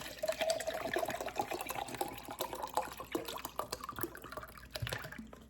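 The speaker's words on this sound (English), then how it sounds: "I'm gonna add some water." Water pours steadily into a pot, a soft gurgling splash with small clinks, fairly faint and close.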